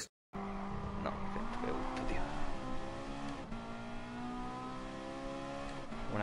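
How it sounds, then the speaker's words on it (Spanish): Racing cars in a video game race, engines droning with layered harmonic whine that rises and dips through gear changes, with tire squeal and a competing car close by, and a brief silence at the start. "os dejo con, con la batallita y con el sonido de los motores"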